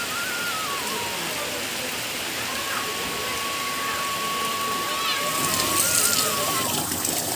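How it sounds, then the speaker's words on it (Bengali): Steady heavy rain pours down outdoors during a stormy day, a dense continuous wash of noise that swells louder toward the end, with faint background tones and no talking. "এই যে ঝমঝম করে বৃষ্টি পড়তেছে।"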